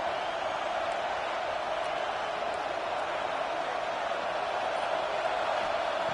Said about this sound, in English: wow, listen to this crowd noise.